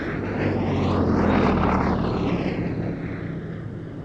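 A Gloster Gladiator biplane flies past at the Duxford Battle of Britain airshow, its propeller engine drone swelling to a loud peak before easing away, steady and continuous, with no talking.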